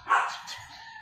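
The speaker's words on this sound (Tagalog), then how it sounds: "may tumatahol yung aso ng kapitbahay" A neighbour's dog gives a single short bark at a distance, a brief sharp yap that trails off quickly.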